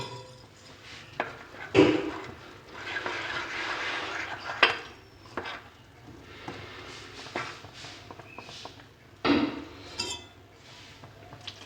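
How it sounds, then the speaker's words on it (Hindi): Broccoli pakora batter of gram flour with ajwain and cumin being mixed in a bowl: intermittent clinks and knocks of a utensil against the dish, with a few sharper taps, close and fairly quiet, no talking. "इसको अच्छी तरह मिक्स कर लें।"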